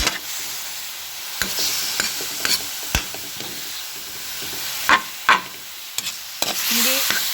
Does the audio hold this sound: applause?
no